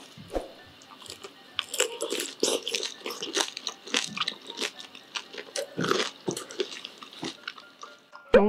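Crispy Korean sweet and sour pork (tangsuyuk) being bitten and chewed up close, giving a steady series of loud, crackly crunches with wetter squishy chewing between bites, and no speech.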